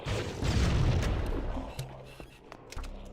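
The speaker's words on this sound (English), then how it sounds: "the explosions seem random as to whether they do anything or not" Rocket explosions in a Halo game: a loud booming blast at the start that rolls and fades, followed by scattered softer pops and thuds of further detonations.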